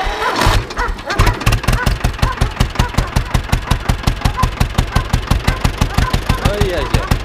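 Ursus C 325 tractor engine cranking and firing up, then running with a loud, close, rhythmic knocking chug at a steady idle pace for several seconds; a voice is heard briefly near the start.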